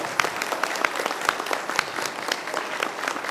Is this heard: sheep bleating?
no